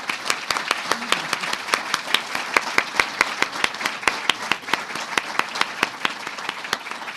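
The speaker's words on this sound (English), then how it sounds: "we want to give another big round of applause to the wonderful speeches the girls gave" A gala crowd at the Windsor Shad Derby applauds speeches given by a group of girls, sustained clapping from many hands with sharp individual claps popping out near the microphone over a steady rhythm.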